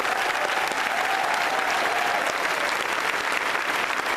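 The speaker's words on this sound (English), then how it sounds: "I would appreciate if you would give these folks a round of applause" A large keynote audience at TwitchCon 2015 breaks into sustained applause, a dense, steady roar of many hands clapping at once that holds at full strength throughout.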